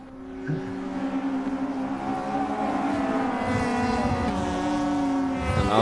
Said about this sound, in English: you can hear the RPMs change as the car bounces across the circuit